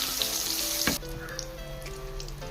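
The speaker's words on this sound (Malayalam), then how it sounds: "2 സൈഡും ഇതുപോലെ തിരിച്ച് മറിച്ചിട്ട് നമുക്കിത് ഫ്രൈ ചെയ്തെടുക്കാം" Brinjal slices fry in coconut oil with a loud, close sizzle that cuts to a softer, steady crackle partway through, punctuated by a brief clatter, with no voices.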